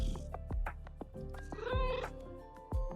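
A cat in the video game Quilts and Cats of Calico meows several times in short, tonal cries while being petted, with a soft rumbling purr underneath, close and fairly quiet.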